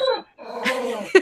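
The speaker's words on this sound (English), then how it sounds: "wander over to the spooky dog noise" An eerie dog noise in a spooky game setting: a drawn-out whining, whimpering tone that breaks off briefly, then resumes with a sharper yip near the end, fairly close and clear with no talk over it.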